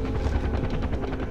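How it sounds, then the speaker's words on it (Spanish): In the video game Far Cry 4, a helicopter's rotor produces a steady rhythmic thudding chop, loud and close, which may be mixed with some gunfire. "Un helicóptero."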